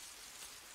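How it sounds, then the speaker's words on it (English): Rain pours steadily in the jungle survival game Green Hell, a soft, even hiss of falling drops that stays faint and constant throughout, with no voices. "It's raining."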